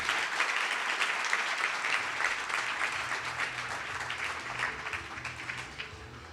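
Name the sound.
audience applause at an awards ceremony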